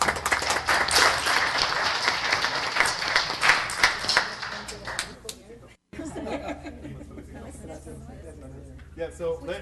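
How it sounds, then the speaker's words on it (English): Dense applause at a city council meeting fills the first half with scattered chuckles, then fades into murmured talk and light laughter from a room of people. "So big round of applause to Cesar and his family for all the hard wor"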